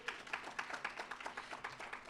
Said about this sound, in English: round of applause for you, because it's all about you today